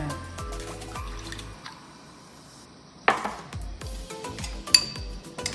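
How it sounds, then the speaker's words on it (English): A little water pours into a salad dressing with a brief splash amid clinking and light kitchen handling sounds, close up and fairly quiet, without speech. "we're going to put a little bit of water in there"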